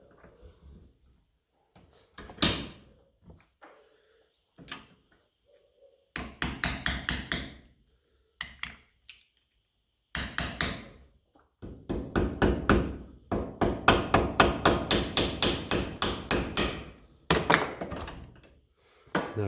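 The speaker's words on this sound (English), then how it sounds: "we can just bend that bit of metal back a bit and tap it in a bit more even" A bent metal tab on the electrics of a 1955 Ferguson 20 TED TVO tractor is tapped into place, with sharp close hammer taps coming singly at first, then in rapid, fairly even bursts with short pauses between.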